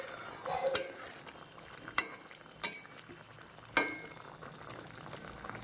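Egg cooking with mustard paste and raw oil in a pan gives a faint, quiet background sizzle, broken by four sharp, separate knocks of a spoon against the pan while it is stirred.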